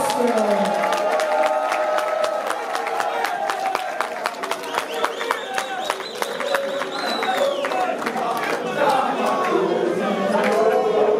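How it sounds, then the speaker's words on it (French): A political rally crowd applauds and cheers for an official presidential candidate, dense clapping and shouting voices with a loud amplified voice and musical tones over it, continuous and busy throughout. "Mesdames et messieurs, les applaudissements pour le candidat officiel."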